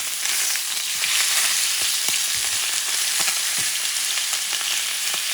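Chicken pieces for a classic Valencian paella sizzle loudly and steadily in a hot pan, a dense close-up crackle with occasional soft pops and utensil taps, no voices.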